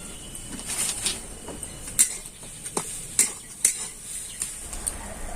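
A spoon stirs and scrapes a coconut filling sweetened with date palm jaggery in a pan, making repeated sharp metallic clinks and scrapes over a faint background, with no voices.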